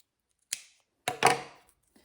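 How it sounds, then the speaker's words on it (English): Scissors snip straight across a plastic zipper while a zippered pouch is being made: two short, crisp cuts, the second longer and louder, close and clear in a quiet room with no talk. "so your scissors will cut right through that"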